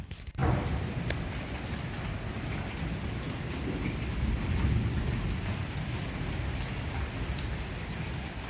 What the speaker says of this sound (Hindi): हम लोग जब छत से नीचे आ गए थे उसके बाद इतनी ज़ोर की बारिश यहाँ पर शुरू हो गई है